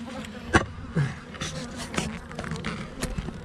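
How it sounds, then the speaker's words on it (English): An agitated honeybee buzzing close by at a hive during a beekeeping inspection, a steady insect hum with brief sharper buzzes over soft background noise. "I got one bee agitated at me now."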